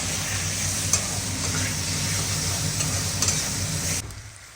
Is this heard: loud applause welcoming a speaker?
no